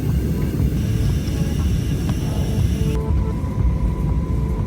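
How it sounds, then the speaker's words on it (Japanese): Inside an airplane approaching its landing at Istanbul airport, a continuous deep cabin rumble and engine drone hold steady throughout, with no talking. "飛行機は着陸態勢に入りました。"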